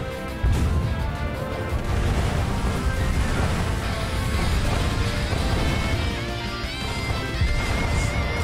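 Ship guns fire in a dense Azur Lane naval battle, with crashing blasts and impacts running continuously over a steady musical backdrop, loud and busy with no speech.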